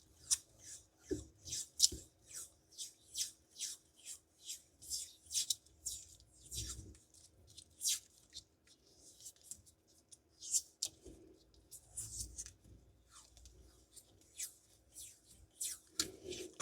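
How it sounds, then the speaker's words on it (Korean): Electrical tape being unwound and wrapped around a car audio cable during a Kia EV3 Harman Kardon sound tuning install, giving a quick series of close, crisp tearing and rasping strokes in a steady rhythm. "전기 테이프를 충분히 감아서 보호를 해야 되겠죠."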